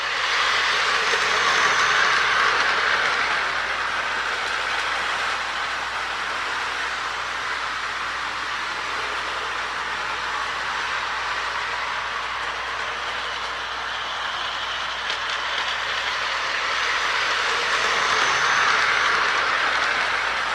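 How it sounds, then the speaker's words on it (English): Lionel toy switcher locomotive running slowly on its track, a steady whirring motor hum with faint rail clatter, continuous and close, no voices. "I see the motor must be getting freed up more and more because it's speeding up a little bit."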